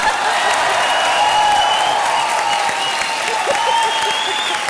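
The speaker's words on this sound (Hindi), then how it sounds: "तालियां।" Studio audience of a television game show breaking into sustained loud applause, dense even clapping with some voices mixed in.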